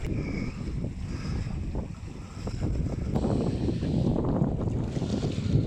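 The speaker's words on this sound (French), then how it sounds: "Le vent commence un peu à se lever." Wind gusts and rumbles against the microphone aboard a sailboat at sea, a steady rushing roar with some water and boat noise underneath.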